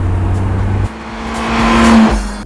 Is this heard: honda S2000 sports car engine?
yes